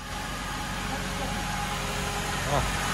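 A steady, low engine hum drones throughout, like a Mercedes car idling nearby, with a faint voice briefly audible near the end.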